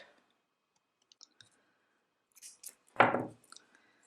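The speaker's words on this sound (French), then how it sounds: "on coupe le fil" Scissors snip through crochet yarn with one sharp, close cut, after a few faint clicks and small handling noises in a quiet room.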